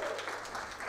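An audience at a question-and-answer session claps briefly, a short, faint burst of applause heard from a distance.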